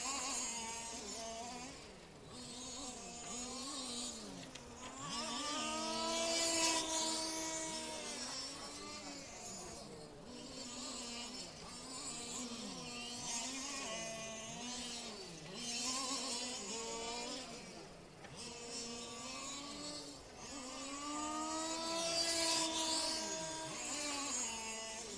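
Electric 1/10 touring cars race in the IFMAR touring car world championship main final at Lostallo, motors whining as they sweep past in repeated rising and falling passes, loud and continuous with the pack closing in and fading away.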